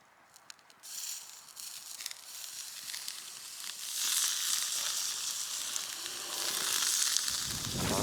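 Food sizzles steadily on a campfire at a wild camp in Galloway Forest, a close, continuous frying hiss that grows louder and denser over several seconds, alone without talk.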